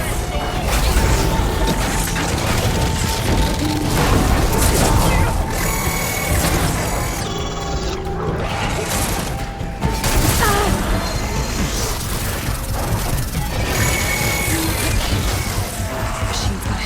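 Hostile robotic machines attack in the Horizon Forbidden West game, a dense, loud battle of crashes, booms and mechanical clatter that runs throughout, with voices and music mixed in.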